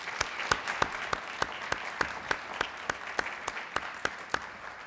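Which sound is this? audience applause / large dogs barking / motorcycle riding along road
audience applause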